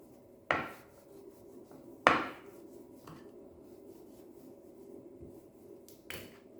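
A wooden rolling pin presses a crust-trimmed bread slice flat for bread samosa, giving two sharp wooden knocks against the board followed by fainter taps and soft rubbing in a quiet kitchen.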